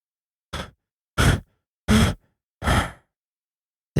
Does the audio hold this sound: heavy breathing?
yes